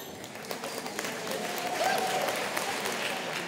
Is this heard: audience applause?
yes